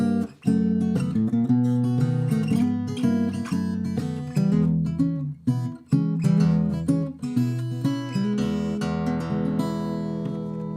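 A Sandon R14 mahogany acoustic guitar plays a Kansas City Blues lick through a microphone, with punchy mid-range picked notes and chords in a rhythmic blues pattern and a few brief pauses. It sounds close and loud, with no talking.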